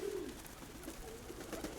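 Nikolaev pigeons coo softly in a brief, low, rolling murmur, faint against light background noise, with no talk.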